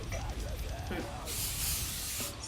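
Hairspray hisses in a long, steady burst onto teased hair, loud and close, following a woman's brief speech.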